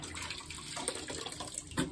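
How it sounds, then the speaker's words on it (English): A sponge rinsed in water while repairing loose bath tiles: soft sloshing and trickling with small splashes, close, steady and fairly quiet, with no talking. "Always rinsing that sponge a lot."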